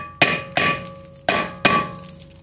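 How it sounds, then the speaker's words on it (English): Four sharp metallic hammer whacks strike a rusted rear brake rotor on a Honda Accord between the wheel studs, each loud blow ringing briefly before fading, in two spaced pairs. "Now to get the rotor off, a couple of whacks between the studs."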